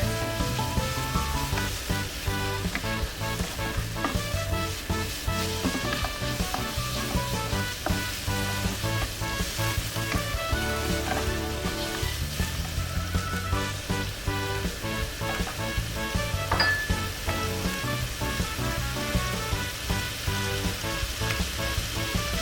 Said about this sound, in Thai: จากนั้นเราก็ใส่เนื้อหมูที่เราเตรียมไว้ 100 กรัมค่ะ ผัดให้หมูสุกดีสักเล็กน้อยนะคะ